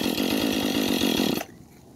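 A temperamental chainsaw roars loudly with a steady pulsing chug at close range, then cuts out abruptly, leaving quiet.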